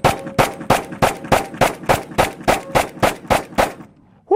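Thirteen loud, evenly spaced pistol shots from a Sig X-Ten 10mm fired at steel targets in a quick steady rhythm, each a sharp crack with a short ringing tail, with no talk.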